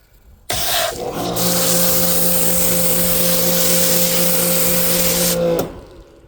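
Foam sprayed onto a car during a touchless wash: a loud, steady pressurized hiss with a motor drone beneath, running about five seconds before cutting off.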